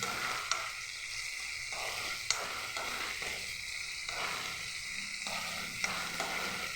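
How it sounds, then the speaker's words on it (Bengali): Spice masala with turmeric sautéed in a pan, with potatoes: a quiet steady sizzle broken by several short scraping stirs and a few light taps, close and without talk. "দিয়ে এই সম্পূর্ণ মশলাটাকে আমি ভালো করে কষিয়ে নেব"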